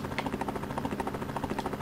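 Rapid, rhythmic chopping of a helicopter engine from the Amiga game Rescue, a steady synthetic thrum that repeats evenly throughout at moderate volume.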